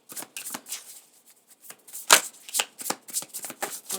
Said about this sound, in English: we're going to pull one more card here for advice